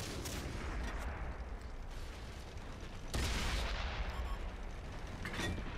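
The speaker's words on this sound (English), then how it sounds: "keep firing off some shots while I'm driving away and keep wiggling around" Tank gunfire from an M22 Locust light tank in World of Tanks on a Pacific island map, fired while driving away: sharp cannon reports with one strong blast near the middle, over a constant engine and track rumble.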